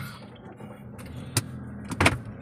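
A car at rest near a hotel on a trip to the Taj Mahal, with a low idling rumble, a few short clicks and knocks like a door or window, and a louder double clunk near the end.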